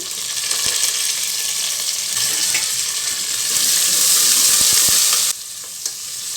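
Green chillies, onion and curry leaves fry loudly in hot oil alongside mustard seeds and cumin, a dense steady sizzle broken by light scraping clicks that eases off sharply near the end.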